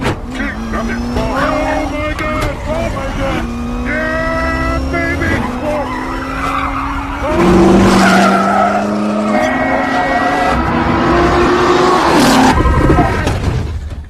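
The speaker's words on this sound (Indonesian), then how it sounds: "dan Shelby pun langsung tancap gas" A race car in the film Ford vs Ferrari accelerates hard, its loud engine climbing in repeated rising surges while the tires skid and squeal, close and continuous throughout.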